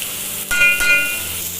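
Tomato and dal khichdi ingredients roasting in a pan, a loud, close, hissing sizzle with a couple of quick stirring scrapes.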